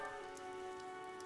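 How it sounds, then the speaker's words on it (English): Steady in-game rain from Fire Emblem: Three Houses pours down as a constant soft hiss over a sustained tonal drone, with no voices. "The rain is really coming down now."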